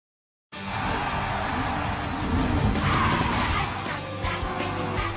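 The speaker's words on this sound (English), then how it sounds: "The speedy pullback race car has racing sounds too." The 2011 Hess speedy pullback toy race car plays its electronic racing sounds after a brief silence: a continuous loud roar of engine and squealing tires that swells in the middle.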